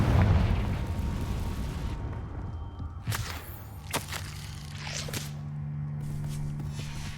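Confringo fire spell from Hogwarts Legacy bursts with a rumbling explosion, followed by several sharp cracking pops and a lingering fiery crackle that fades into a low ambient hum.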